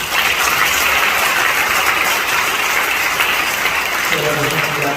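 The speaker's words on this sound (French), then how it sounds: "Ovation." A crowd applauds at the sixtieth-anniversary celebration of the Saint-Jean de Cocody parish, a dense, steady wash of clapping that continues throughout with a low mechanical hum beneath it.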